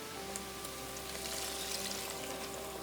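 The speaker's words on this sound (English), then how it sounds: "It's weird to pour it from a can." Wine is poured from a can into a stew pot, giving a faint, steady liquid pour and sizzle that runs throughout.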